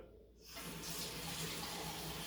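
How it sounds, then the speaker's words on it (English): Cold tap water runs in a kitchen while saltfish fritters are prepared; after a quiet start the flow begins and continues as a steady, fairly close hiss. "some water here guys, cold water"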